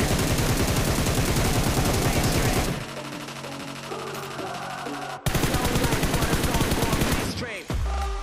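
M762 rifle fire in the BGMI/PUBG mobile game sounds as rapid, dense automatic bursts, loud and continuous, broken by a quieter stretch of game sounds before the shooting resumes.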